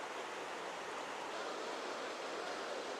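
Shangarh waterfall roars as a constant, even wash of falling water, moderately loud and unbroken, with no clear voices.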